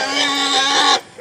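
A sow pig lets out one loud, harsh, sustained squeal at close range that cuts off sharply near the end, with faint background noise after.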